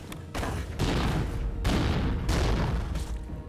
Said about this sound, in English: she can also shout, "You're done," and shoot 4 powerful chaos bolts at you